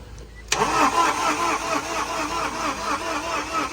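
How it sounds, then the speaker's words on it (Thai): A Tata diesel truck that sat parked for about a year is started. After a moment of near quiet, the engine cranks abruptly and keeps up a loud, close, rhythmic chugging. "อันนี้ลูกค้าจากเพชรบูรณ์มาลองสตาร์ทเครื่องดูก่อนนะ"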